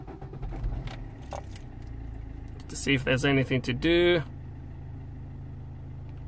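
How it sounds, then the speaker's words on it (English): A Vauxhall Opel Corsa D engine cranks and fires, a short burst of starter whir and catch after faint key jangling, then settles into a steady low idle hum; a voice speaks briefly before the start. "start the engine."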